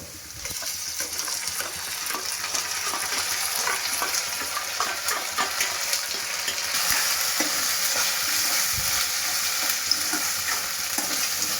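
Ginger garlic paste sizzles and spits with golden fried onions in a hot pan, with a steady frying hiss and scraping stirs throughout, close and with no speech.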